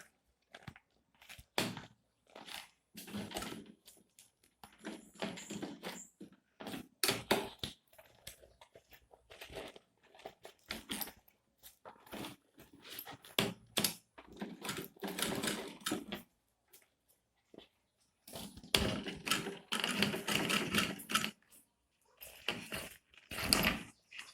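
A sewing machine stitches a homemade DIY handbag in stop-start runs: rapid mechanical whirring and clattering bursts of varying length, broken by short pauses, with a long, steady, louder run near the end and no voices.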